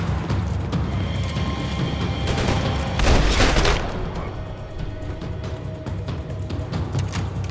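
Gunfire in Max Payne, a busy stretch of overlapping shots and impacts with a louder burst midway, sustained and dense under game ambience with no talk.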